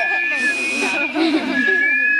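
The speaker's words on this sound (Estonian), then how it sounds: "Vaata, kui vaikne su vile on." A child's thin, wavering whistle, fairly quiet and sustained with a short break, heard under an adult's speech close by.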